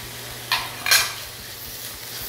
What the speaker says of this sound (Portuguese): É só mexer um pouquinho para o tomate começar a dissolver